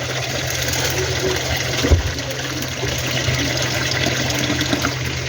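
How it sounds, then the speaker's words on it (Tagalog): Water pours steadily into a pan of overripe bananas being cooked in syrup, a continuous rushing splash, close by, with a brief thump partway through. "dinamihan ko na siya ng tubig guys para"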